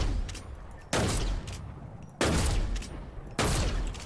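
Three loud, sharp shots from a Storm Scout sniper rifle in Fortnite, spaced over a second apart, each a hard crack trailing into a short decaying tail.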